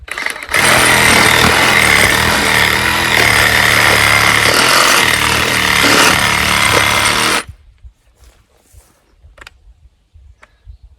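A cordless Dewalt 20V Sawzall reciprocating saw cuts into soil for an irrigation trench, a loud, steady buzzing chatter running for about seven seconds before stopping abruptly, leaving near silence with faint rustles.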